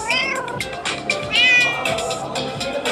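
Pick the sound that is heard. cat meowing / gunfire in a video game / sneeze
cat meowing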